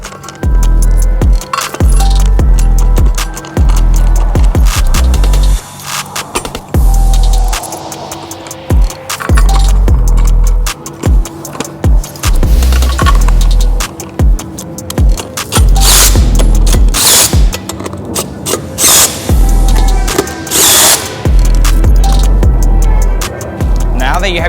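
Bolts are driven in while assembling the seat of a Vander M11 machine, with rapid ratcheting clicks, metallic rattles and clanks coming close and loud in bursts, and someone speaking throughout.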